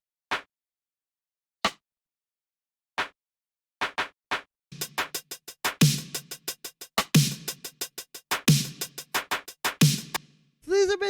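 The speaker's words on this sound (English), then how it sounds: "this clap and rim shot," 80s-style synthwave percussion samples: crisp, dry clap and rim shot hits, first as sparse single strikes, then in a fast, steady rhythmic pattern, loud and close with no other sounds.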